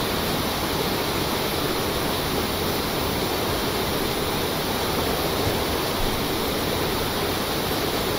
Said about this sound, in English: This is difficult with the boat moving, the waves.